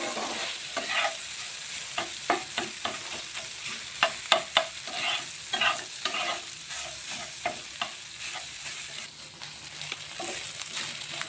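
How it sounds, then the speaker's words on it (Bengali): Paneer with turmeric fries in a pan until reddish-brown, a soft steady sizzle broken by repeated sharp scrapes and knocks of a spatula stirring it. "একটু ভালোভাবে একটু লালচে করে ভেজে নিচ্ছি পনিরটা।"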